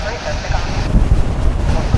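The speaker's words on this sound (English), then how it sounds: "we're getting some gusts now" Gusty wind buffets an outdoor microphone at a live plane-spotting spot beside a Dallas Fort Worth Airport runway, a steady low rumble swelling into stronger thumping gusts in the second half.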